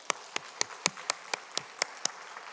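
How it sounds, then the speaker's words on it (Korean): Slow, evenly spaced hand claps in a Korean church service, about ten sharp strikes over a couple of seconds, fairly faint with a soft room background and no talking. "박수해 주시기 바랍니다."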